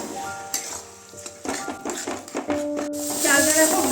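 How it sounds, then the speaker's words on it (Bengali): Soaked rice stirred and fried in oil in a pan (a kadai), with scraping and clinking of a utensil against the metal over a soft sizzle, several stir strokes close by with no talk. "চালটা দিয়ে ভালো করে এবারে ভেজে নেব।"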